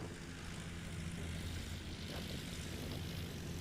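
A STOL light propeller aircraft roars at full power during a short takeoff at an airpark competition, a steady broad engine drone heard from a moderate distance with no voices.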